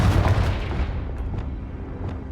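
A Confringo blasting spell in the Hogwarts Legacy video game bursts with a loud, deep boom right away, then rumbles and decays over a couple of seconds, with a few faint crackles trailing off.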